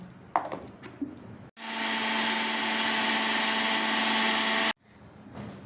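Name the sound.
mixer grinder powdering roasted ingredients for idli podi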